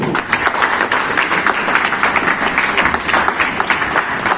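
Sustained applause from a seminar audience at a health business event in India, dense steady clapping throughout without speech.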